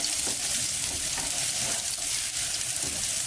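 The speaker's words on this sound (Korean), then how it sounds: "그리고 당근을 프라이팬에 볶아주세요." Carrot slices stir-frying in a frying pan, giving a loud, constant sizzle with faint scraping strokes of stirring throughout.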